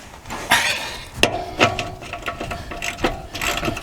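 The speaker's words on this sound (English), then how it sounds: "the ratchet on the back" Ratchet wrench turning while caravan brakes, wheel bearings and suspension bushes are replaced, giving several sharp, close clicking bursts at irregular intervals.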